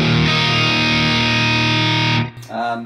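Electric guitar through a Diezel Schmidt amp with gain all the way up and reverb on, ringing out one sustained crunchy, metal-style high-gain chord that cuts off abruptly, followed by a short scratchy burst of picking.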